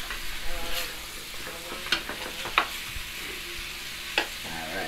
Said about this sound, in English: So, stir up the curry.